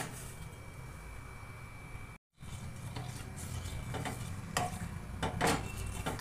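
Jaggery being stirred as it melts in a cup of water in a cooking pot, a steady close scraping and swishing with a few brief metallic clinks against the pot, after a momentary dropout.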